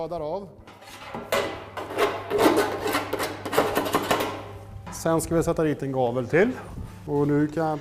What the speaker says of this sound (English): After cutting it, I file the end with a knife and place another stop end there.